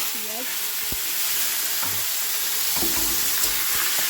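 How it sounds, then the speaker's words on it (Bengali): Tomato and onion fry in a pan with whole garam masala and cumin, giving a soft, steady sizzle with a few light clinks of stirring, close and fairly quiet, with no speech. "এটা একটু ভাজা ভাজা করে নেবো"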